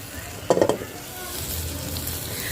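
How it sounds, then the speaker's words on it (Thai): Gentle, steady frying crackles as bread browns in butter in a pan, with a few quick clinks of a utensil early on. "จากนั้นก็อังด้วยเนยค่ะ ให้มันเหลืองหอมนะคะ"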